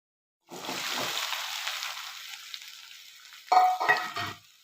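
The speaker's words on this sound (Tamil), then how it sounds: "இப்போ இந்த வெங்காயத்தை இதில் சேர்த்துடலாம்" Onions drop into hot oil and sizzle at once, fading to a softer steady fry before a louder burst of sizzling and stirring near the end.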